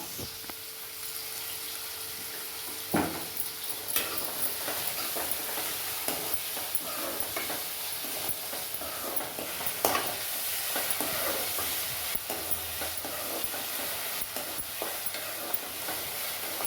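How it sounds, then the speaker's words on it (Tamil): Sliced onions sauté with a little salt in a pan for a coconut-milk crab gravy, giving a steady soft sizzle with scraping stir strokes and a few sharper clinks, close by with no talking. "வெங்காயம் நல்லா வதங்கட்டும்."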